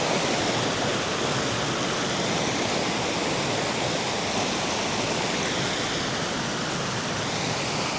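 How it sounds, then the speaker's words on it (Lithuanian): River water rushes and hisses steadily past small wooden footbridges. The broad, unbroken flow is close and fairly loud for the whole stretch, with no voices. "Ramiai ten palei lieptelius, palei tiltelius ir nuteka ten kažkur tai."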